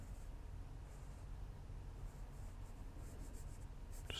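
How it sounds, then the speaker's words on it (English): A pen or pencil drawing a line on paper: a faint, continuous close scratching rub lasting a few seconds, ending with a small tap. "I can draw a line"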